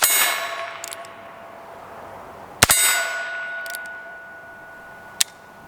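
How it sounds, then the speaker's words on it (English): Steel gong target rings out from .22 Long Rifle revolver rounds: one bright clang at the start, a second sharp strike midway with a long shimmering decay, and a brief third hit near the end, no voices. "Let's shoot the Scoops TV gong."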